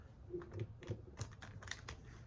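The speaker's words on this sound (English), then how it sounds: "One more split half side shuffle." Soft rapid riffling bursts of tarot cards being split and shuffled, a few quick flurries in succession, close up and fairly quiet.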